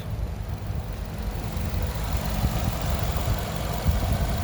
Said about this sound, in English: that engine is running smooth